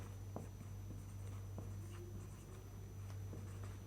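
A pen writes a number on paper, producing faint, scattered scratches and taps over a steady low hum, with no voices.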